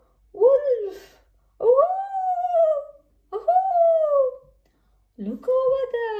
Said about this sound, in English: Now it's your turn to howl like a wolf.